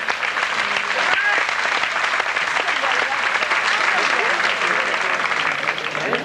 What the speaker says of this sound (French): on leur applaudit.